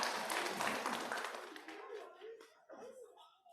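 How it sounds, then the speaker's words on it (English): Clapping from the congregation at a Christmas Eve church service, loud at first and then thinning out quickly, followed by a voice speaking over the last scattered claps. "Yeah, you can clap."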